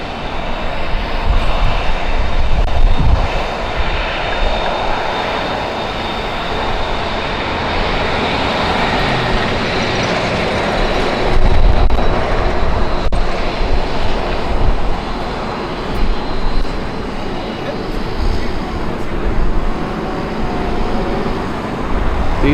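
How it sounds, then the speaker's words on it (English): A Korean Air jet airliner takes off at Los Angeles International Airport, with its engines making a loud, steady, broadband roar that swells slightly at times and goes on throughout without talk. "It's going to be amazing to watch that take off and listen to those engines."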